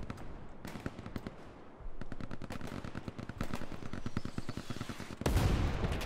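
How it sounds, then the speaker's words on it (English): Sustained machine gun fire in a D-Day video game, a dense stream of sharp rapid shots from several guns at middling distance, with a louder burst of fire near the end. "Can't tell if that fire's from us or them."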